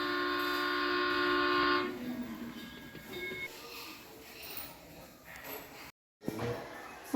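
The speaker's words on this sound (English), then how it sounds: "Look, look, another engine is coming." A train horn or whistle sounds steadily for about two seconds as an engine approaches, then gives way to a rumbling, noisy run of rail travel with a brief dropout near the end.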